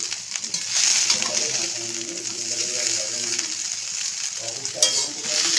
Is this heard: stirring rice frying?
yes